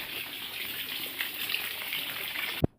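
Water runs steadily from a household tap as a broad, even gush, then cuts off abruptly with a short knock near the end.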